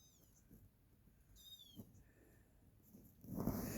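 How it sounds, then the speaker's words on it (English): A kitten gives a few faint, short, high meows in a quiet room, separated by pauses, before a soft rustling noise builds at the end. "It's a really pretty kitty."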